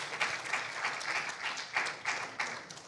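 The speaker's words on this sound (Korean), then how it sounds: "박수 한번 부탁드리겠습니다" An audience at a science journalism conference session applauds, giving a short burst of moderate, continuous clapping that lasts about three seconds.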